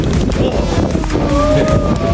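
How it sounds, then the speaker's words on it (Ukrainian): Steady wind buffeting the microphone, a low continuous rumble with gusty swells, alongside a faint high tone. "Вітер!"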